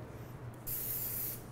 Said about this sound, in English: You just take a little nonstick cooking spray.